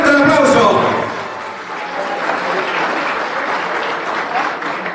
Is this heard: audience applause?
yes